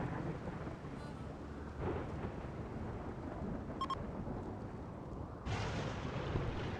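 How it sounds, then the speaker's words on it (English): Low, rumbling thunder rolls continuously through a Rimworld video game thunderstorm in a cold bog, with steady rain-like noise and a louder swell toward the end, no voices. "Would you stop with the thunderstorm soon?"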